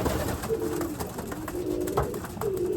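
Racing pigeons coo softly inside the loft, several low, rolling calls repeating close by against a faint background rustle.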